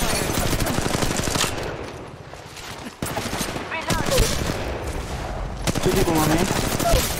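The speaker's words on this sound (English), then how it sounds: "Why is my gun single firing?" Flatline assault rifle in Apex Legends Mobile firing continuous loud bursts, dense and close, with game sounds and a brief break in the middle.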